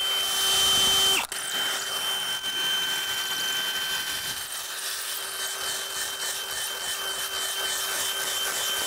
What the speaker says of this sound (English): Regular drill.